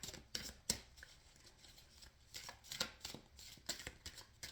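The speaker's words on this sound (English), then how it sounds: "So 2 more shuffles with this deck." Quiet, close papery riffling and soft snaps of cards being shuffled, in irregular bursts with no talking.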